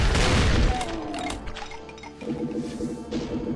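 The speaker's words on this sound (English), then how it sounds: "Let's try the shotgun." Shotgun fire in the Brutal Doom first-person shooter game, a loud booming burst at the start followed by clanking mechanical pumping and overlapping game noise and music, with no voice.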